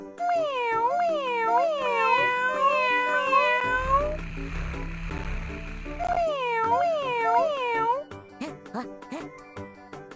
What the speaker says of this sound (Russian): Кошка.